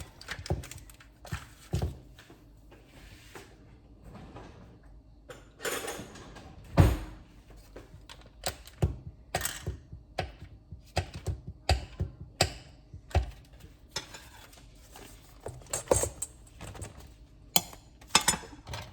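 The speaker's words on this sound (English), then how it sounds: "my pastry cutter has seen better days, but it still works" A worn pastry cutter chops butter into flour and salt for a pie crust, making irregular soft clicks, scrapes and knocks against the bowl at close range.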